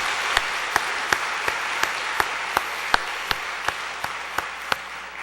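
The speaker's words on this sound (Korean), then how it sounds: "감사하는 박수를 한번 드리겠습니다." Congregation in a church sanctuary at a Sunday evening family seminar applauding in thanks; crisp regular claps stand out over a soft wash of clapping, steady and moderately loud, with no talk.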